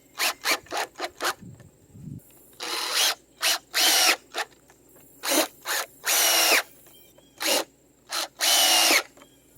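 A cordless drill whirs in a series of short and longer bursts, close and loud, with brief pauses between runs.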